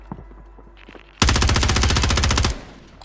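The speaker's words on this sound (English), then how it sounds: "Watch your fire, Ed" Loud, sustained machine gun fire from Call of Duty Warzone 3, a dense rapid burst of over a second close up, preceded by faint scattered shots and quiet radio-style voices.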